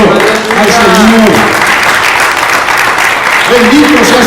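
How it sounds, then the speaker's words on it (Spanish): A church congregation claps loudly and continuously, with voices calling out and singing-like tones over the applause. "Le damos un fuerte aplauso al Señor"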